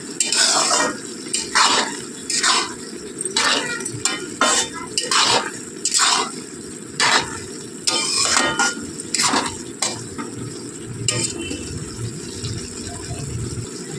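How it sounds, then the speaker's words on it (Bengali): A spoon repeatedly scrapes and clatters through jorda polao rice mixed with ghee in a metal pot, close and loud in rhythmic strokes, with a soft sizzle underneath and no talking. "ভালোভাবে মিশিয়ে নিয়ে এটাকে আমি আরও ভালোভাবে মিক্স করে নিয়ে"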